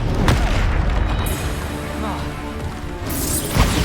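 A Bombarda spell blast in Hogwarts Legacy, a loud booming explosion with crashing debris that fills the short clip, with game combat sounds layered around it.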